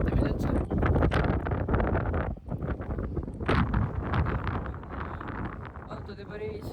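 Strong wind buffets the microphone outdoors at an ice rally track, with heavy, gusting rumble and rustle close up throughout.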